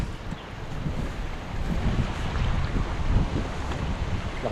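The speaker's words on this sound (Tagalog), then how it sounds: "Lakas ang hangin." Strong wind blows over open water, a steady, close rush and buffeting against the microphone with low rumble, rising slightly midway and with no voices.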